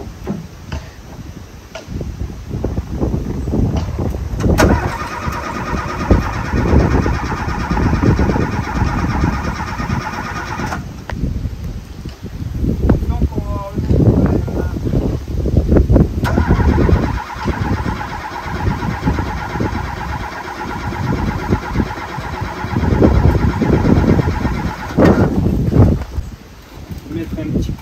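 Old abandoned Renault car engine being coaxed to start after petrol is poured into the carburettor, rough mechanical cranking and sputtering bursts over about half a minute, with people talking and wind rustling outdoors.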